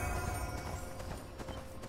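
Horse hooves clip-clop in a steady rhythm during riding in the fantasy MMO ArcheAge: Unchained, close and fairly loud over a dense bed of game music and ambience, with no talking.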